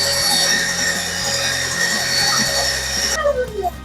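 A close electric mixer whirs loudly and steadily at high speed as it beats cake batter for a silver white cake, then cuts off abruptly just before the end.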